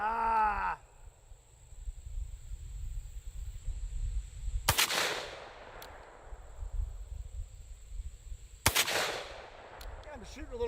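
Two sharp, loud gunshots from Olympic-style target shooting, spaced about four seconds apart, each a sudden crack with a brief decay, heard close amid quiet background and a brief groan-like voice at the start.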